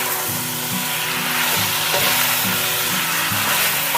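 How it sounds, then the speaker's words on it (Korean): Fish cakes are stir-fried with sesame salt in a pan for kimbap, giving a steady sizzle with scraping stirring strokes throughout. "깨소금을 넣어서 다시 볶아줄게요."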